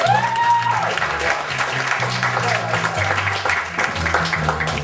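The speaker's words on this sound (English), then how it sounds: "Give her a round of applause." Audience applause at a live comedy show, steady broadband clapping throughout, with low tonal music or hum underneath and some voices mixed in.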